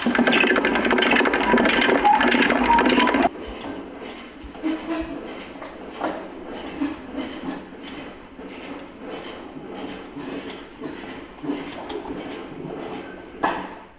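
A lift lowers a heavy washing machine, with a loud steady mechanical whir for the first few seconds, followed by quieter irregular clunks, creaks and rattling knocks, then a final louder clatter near the end.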